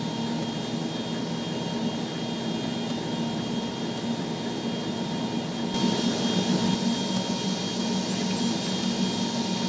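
A Bombardier CRJ 700 jet engine spools up during start, a steady whine with a rising tonal hum that swells louder partway through, heard alone without talk.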